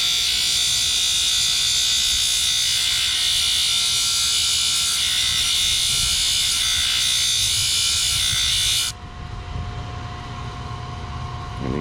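A rock-cutting saw grinds a bevel down to the bottom edge of a rock, a steady loud high-pitched whine with a constant hum beneath that drops in pitch and intensity near the end as the blade comes off the stone.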